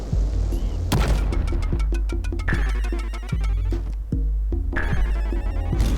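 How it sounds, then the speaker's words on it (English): Bright chiming pickup tones from gold collected in the Unity-built cave game Rocket Cave Adventure, repeating in quick rhythmic bursts over steady game music and thumping low sounds. "That noise was from the gold."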